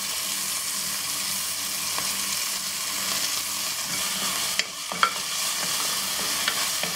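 Mint and coriander fry in a pan for chicken biryani, a constant sizzle with spoon stirring and a couple of brief clatters partway through.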